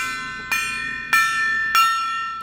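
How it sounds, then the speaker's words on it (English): A notification bell sound effect: three bright, ringing dings about half a second apart, each leaving a long shimmering tail that overlaps the next. The dings are fairly loud and alone, with no voices. "Hit that notification bell"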